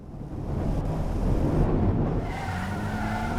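Tires squeal and skid as a car is pushed hard through a corner on a BeamNG test track, a sustained noisy screech over engine rumble, with a rising whine toward the end.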